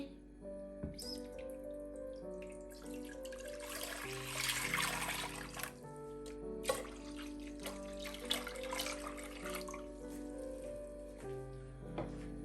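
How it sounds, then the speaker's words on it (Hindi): Water is poured steadily into a deep cooking pot, eight cups measured out to boil tapioca pearls for bubble tea. A continuous trickling splash runs under soft background music, with no talking. "देगचे में 8 कप पानी ऐड करेंगे।"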